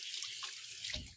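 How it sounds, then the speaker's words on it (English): A kitchen tap runs water over freshly peeled hard-boiled eggs to rinse off stray shell. It makes a soft, continuous splashing hiss, quiet and steady, with a brief louder gush near the end and no voices. "let's give these a rinse just to make sure there's no shells"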